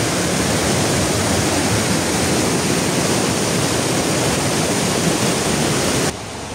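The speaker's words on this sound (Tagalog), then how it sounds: "masyadong malakas yung ingay ng ilog" Loud, roaring rush of a river, a dense wall of churning water noise that drops off abruptly near the end.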